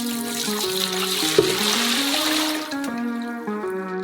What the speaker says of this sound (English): Pour 3 liters of water into a large saucepan.